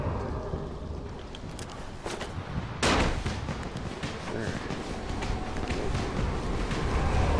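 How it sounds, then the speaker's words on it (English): Gunfire in the zombie game Dying Light, a few sharp bursts and a louder blast amid dense, continuous rumbling game noise, with players talking over it. "I'm going to try and shoot it."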